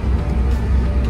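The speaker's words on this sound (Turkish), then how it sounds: "bugün önümde bir otobüs var" Engine rumble and road noise from a bus driving just ahead on a road, a steady low drone heard from a following car.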